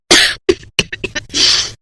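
A sick mother lies in bed in an animated Hindi moral story and coughs loudly and close, in a rapid run of four or five harsh bursts ending in a longer rasping cough.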